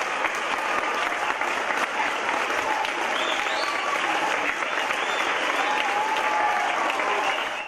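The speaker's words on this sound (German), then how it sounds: "der ganze Chor auf der Bühne und verabschiedet sich unter tosendem Beifall vom begeisterten Publikum von der Bühne" A theatre audience gives thunderous, dense, steady applause as an opera chorus, including young performers at Theater Trier, takes its curtain call, continuous and close throughout.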